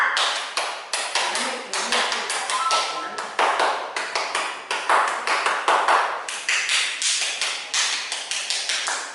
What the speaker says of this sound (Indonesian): Sekarang kita tepuk tangan. Tepuk pramuka.